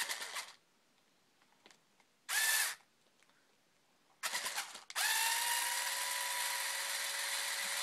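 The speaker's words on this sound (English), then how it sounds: "So drill up into it." A power drill drives a screw up into a cosplay horn, heard in a short whirring burst, then a stuttering run and a longer steady drone at close range, with quiet pauses between.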